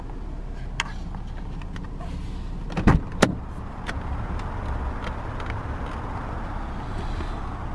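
A 2014 Toyota iQ with a 1.0 VVT-i engine idles with a low, steady hum, broken midway by a few sharp clunks and a whirring burst like a door or power window.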